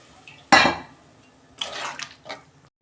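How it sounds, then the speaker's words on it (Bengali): A sharp metal clank comes first, then a short splashy pour as a little water goes into a cooking pan of taro stolon and prawn curry, close and brief against a quiet background. "এবার অল্প পরিমাণে জল দিচ্ছি"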